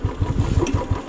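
Motorcycle engine on a two-up ride toward Darjeeling, a loud close throbbing with a steady pulsing rhythm of regular firing beats.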